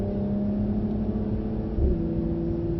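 A Mercedes car accelerates on a driving track, a steady, fairly loud engine drone heard from inside with a slight swell near the end and no talking.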